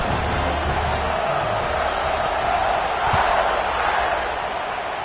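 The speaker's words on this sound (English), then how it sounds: "this crowd is buzzing after that last score" Stadium crowd in College Football 26 buzzing after a score, a steady dense roar of many voices filling the whole stretch, with a swell midway and a commentator talking over it.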